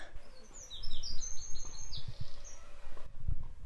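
A small bird sings a quick series of high, bright trills and chirps, moderately close, over soft background rustling and low rumble.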